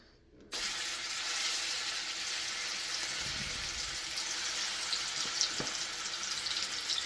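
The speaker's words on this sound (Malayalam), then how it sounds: "അപ്പോൾ ഞാൻ ഇവിടെ ഒരു പാൻ വെച്ച് എണ്ണ ചൂടാക്കിയിട്ടുണ്ട് ഫ്രൈ ചെയ്തെടുക്കാൻ വേണ്ടിയിട്ട്." Marinated chicken drops into hot oil in a pan and sets off a sudden, steady hiss of sizzling and spattering that carries on evenly at close range.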